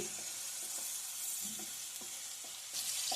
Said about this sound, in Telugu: ఈ పేస్ట్ని పచ్చి వాసన పోయేదాకా ఇలా ఫ్రై చేసుకోవాలి